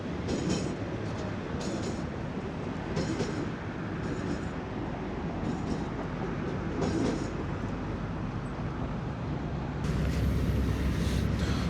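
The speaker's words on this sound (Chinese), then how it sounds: "桥上还有轨电车" A tram runs across the Galata Bridge in Istanbul, a steady rolling rumble of rail wheels with repeated clicks and faint squeals, close and continuous, growing louder toward the end.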